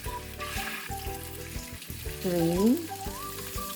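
Salmon and shrimp seafood mix frying in a pan, with steady close sizzling and bits of stirring and clinking, while a voice speaks briefly over it.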